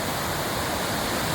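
River water flowing toward the sea, a broad, steady rushing wash like a weir or fast current, loud and continuous with no voices.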